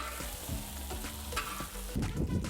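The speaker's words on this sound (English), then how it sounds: "the chorizo is cooked. I'm just gonna move this to the outside edge again" Cooked chorizo pushed around with a metal spatula on a hot discada, a continuous close sizzle of frying meat with scraping strokes over it and a louder burst of crackle near the end.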